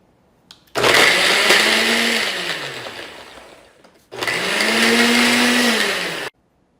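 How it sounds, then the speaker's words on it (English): A Ninja Blendboss blender runs on its smoothie setting, blending frozen strawberries and honey in two loud bursts with a short pause between them, the motor pitch rising then settling as it churns. "Now we are going to attach the blender base and hit Smoothie on the device."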